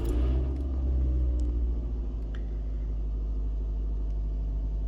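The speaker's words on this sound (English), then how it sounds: "So you turn on your vehicle." A vehicle engine running just after being switched on: a steady, close, low idle rumble with a strong hum, a few faint clicks and no talk.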